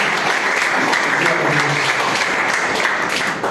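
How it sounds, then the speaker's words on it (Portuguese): Church congregation applauding together, a dense, loud and continuous wash of clapping that holds steady for several seconds before easing off, with faint voices mixed in. "Você pode aplaudir ao Senhor?"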